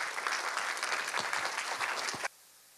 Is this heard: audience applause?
yes